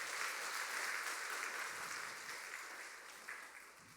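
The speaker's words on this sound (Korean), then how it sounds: "크게 박수 한 번만 더 하면 좋겠습니다" Church congregation applauding during a Sunday worship service, a dense sustained clapping that fills the room, strong at first and gradually tapering off toward the end.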